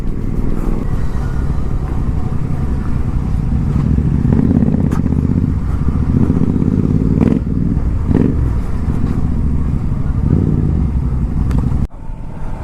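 A motorcycle climbs a rough, slippery offroad mountain pass road, its engine rumbling loud and close throughout with clattering from the uneven track and brief surges in revs.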